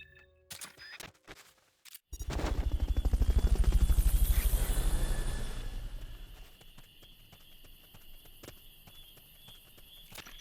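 Fulton recovery helicopter in the video game Metal Gear Solid: Peace Walker, its rotor swelling into a loud, steady, close chopping roar after a few sharp clicks, then easing to a lower thrum with scattered clatter, no talk.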